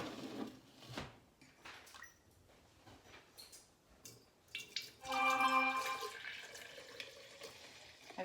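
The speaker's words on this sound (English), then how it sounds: "I'm just going to pour it in this quart mason jar." Milk is poured from close by into a glass quart mason jar. The liquid splashes quietly at first, then a gurgling fill rises in pitch around the midpoint, all fairly faint.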